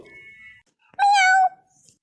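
A cat meows once at a house doorway, a single loud, close, drawn-out cry in the quiet, after a faint tone and low murmur.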